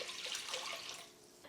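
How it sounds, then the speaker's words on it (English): Water poured from a container into a soup pot for a broth base, a brief close rushing splash that tapers off after about a second, with no talking. "So now we can prepare our broth base, starting with 4 cups of water."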